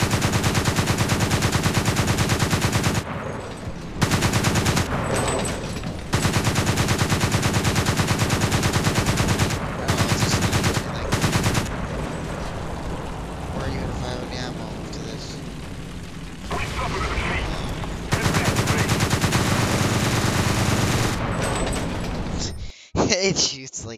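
Rapid bursts of machine-gun fire in the War Thunder video game, loud and sustained, coming in long blocks of continuous shooting broken by short pauses, with quieter stretches of mixed battle noise in between.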